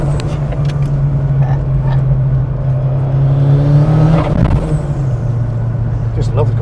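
A 1987–88 Ford Sierra Cosworth tuned to about 560 bhp, fitted with a big tooth gearbox, drives sideways with a loud, continuous engine drone whose pitch climbs briefly near the middle before settling again.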